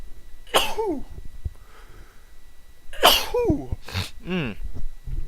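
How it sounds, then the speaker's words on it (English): A person sneezes loudly, followed by a second sneezy burst and some throat noises, close up with no talking. "Hold on, I gotta sneeze."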